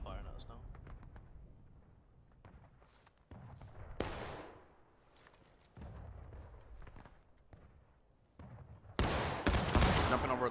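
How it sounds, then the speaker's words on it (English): Scavengers firing in a video game: bursts of gunfire crackle in the distance and up close, scattered shots and rapid volleys that swell loudest near the end, with players talking over the fighting. "The scavengers are firing at us now."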